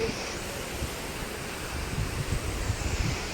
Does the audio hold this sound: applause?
no